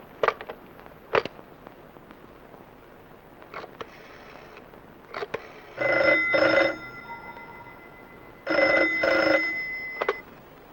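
A telephone ringing in repeated double bursts after a call is dialed, two clear rings spaced a few seconds apart, preceded by faint clicks of dialing in a quiet room with no talk.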